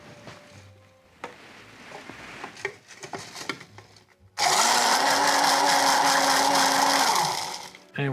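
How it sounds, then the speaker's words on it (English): A blender flash-blends a tiki cocktail with ice: after some soft handling clatter, the motor kicks on loud and close with a dense whirring roar for about three seconds, then cuts off abruptly. "we're gonna add some ice to our tin and we're gonna flash blend it for no more than 5 seconds"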